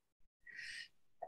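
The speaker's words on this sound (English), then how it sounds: "Okay, I'm about to sneeze." A single quiet sneeze, a sharp breathy burst after a short intake of breath, close but faint, with no talk.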